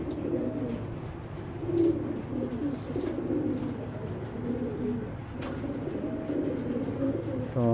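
Red checker male racing pigeon, an imported cock, cooing in a steady low rolling murmur that carries on through the stretch, with other pigeons cooing around it and faint background sounds.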